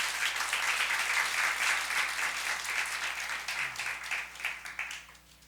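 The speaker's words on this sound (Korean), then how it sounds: "우리 하나님께 큰 박수 올려드립니다." A church congregation applauds with loud, dense, steady clapping that carries on for several seconds and fades slightly toward the end.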